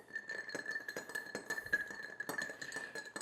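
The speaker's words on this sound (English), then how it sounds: "We're going to stir this up." Ice clinks and rattles against a glass as a cocktail called The Sloop is stirred, giving repeated close, bright taps at an uneven quick rhythm with no talking.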